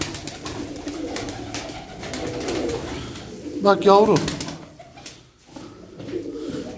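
Pigeons coo in a rising, warbling burst amid a busy outdoor pigeon market in Istanbul, moderately close, with people talking over a background of rustling and crowd noise.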